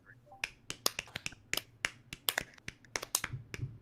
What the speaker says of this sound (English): Golf clap on 3.